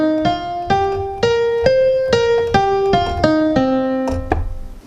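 Minor pentatonic scale on a keyboard, a run of about ten evenly spaced single notes stepping through the five tones, each note clear and close, ending with a final struck note; no talking.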